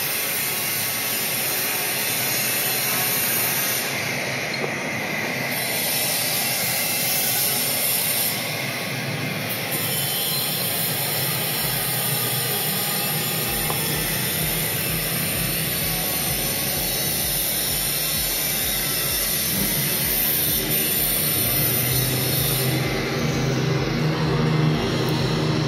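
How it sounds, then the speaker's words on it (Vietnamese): A tile cutting machine at a nearby construction site gives a continuous loud grinding whine that holds steady throughout, with a faint low pulsing rumble toward the middle and end. "bên kia họ cắt gạch, máy cắt thạch nó kêu đấy, chứ còn động cơ không có tiếng gì đâu"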